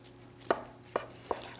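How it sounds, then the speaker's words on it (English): Three distinct knife cuts land on a cutting board as a rested turkey roulade is sliced on the diagonal, evenly spaced and fairly close, over a faint steady hum. "we'll go ahead and slice it up"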